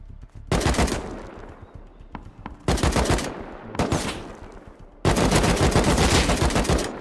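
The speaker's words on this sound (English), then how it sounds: "I'm shot by an AK" Bursts of AK rifle fire in the survival game Rust, loud and close, in three rapid automatic volleys, the last one long and sustained.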